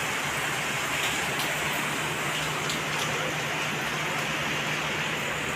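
Heavy rain pours down at night in a steady, dense hiss, loud and constant, with no pauses and no voices.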